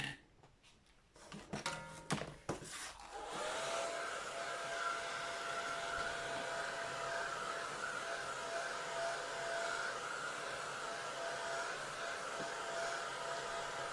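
A hair dryer blows on a wet watercolour winter landscape done in inexpensive pan paints on 140 lb cold-press paper. A few clicks and knocks come first, then the dryer starts and roars steadily and close for the rest of the clip.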